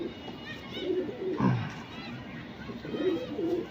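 A breeder pigeon gives soft, low cooing in two short bursts, near and moderately loud, with faint background voices and room noise.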